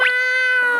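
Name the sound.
person imitating a cat meowing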